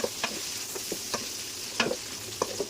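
Cinnamon sticks and bay leaves fry in hot oil in a pot, a steady soft sizzle with a few light scrapes and taps of stirring scattered through.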